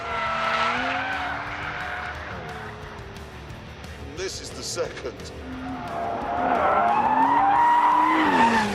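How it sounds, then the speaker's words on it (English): An Aston Martin DB11 is driven on a track in The Grand Tour Game video game, its engine droning and shifting pitch with tire squeal and skidding, while someone talks over it. "The DB11 was the first Aston I've ever driven that felt good on a track."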